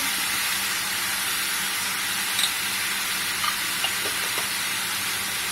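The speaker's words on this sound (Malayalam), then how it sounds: "അത് നന്നായിട്ടൊന്ന് ഇളക്കാം. നന്നായി ഇളക്കി കൊടുത്ത ശേഷം അല്പം മഞ്ഞൾ ഇതിലേക്ക് ഇടാം." Sliced radish frying and being stirred in a pan, a continuous close sizzle with soft scraping and a few faint clinks of the spoon against the pan, and no talking.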